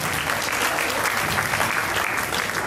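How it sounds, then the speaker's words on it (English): Parents and audience applauding at a school prize distribution, a dense, continuous round of clapping close and loud throughout, with no speech over it. "Parents, please give her a big round of applause."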